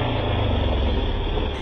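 A Royal Enfield Bullet motorcycle engine idles steadily and close by, its low, even thump running unbroken with no voices.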